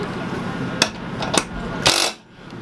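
Short metallic clicks and clanks of a 10 mm ratchet tightening bolts on a ceiling bracer inside a Sprinter van, a few quick bursts over a steady background hum, close by.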